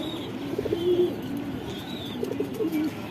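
A Teddy pigeon, kept as a Shahjahanpuri breed, coos in low rolling phrases, two short bursts close by against faint background hum.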